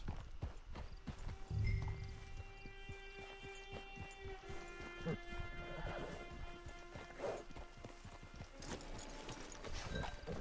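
Rhythmic hoof clip-clops from a horse in Red Dead, steady and fairly close, layered with game ambience and scattered knocks, with a loud thump early on.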